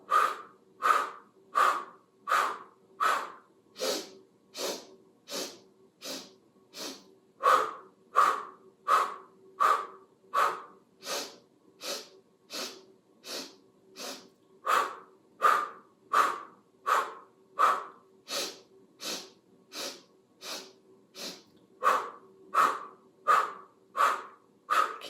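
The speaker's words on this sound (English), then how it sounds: "And then we start breathing in and pulsing." Rhythmic pulsing breathwork for vitality: sharp, forceful breaths repeated steadily in bursts separated by brief pauses, close and clear with no talking.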